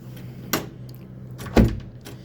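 Warped hotel room door that won't latch, slammed shut and then kicked: a sharp bang partway through, then a heavier, louder thud a second later over a low steady room hum.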